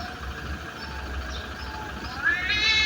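Two cats trade drawn-out meows in a tense standoff that nearly turns into a fight, the calls rising louder and higher toward the end over a steady low background hum.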